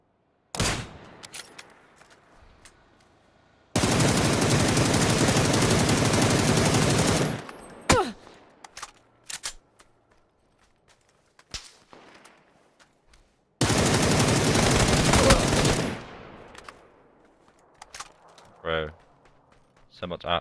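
Two long, loud bursts of sustained automatic gunfire from a PUBG battle on PS5, solo match on a hill, separated by scattered single shots and quieter gaps.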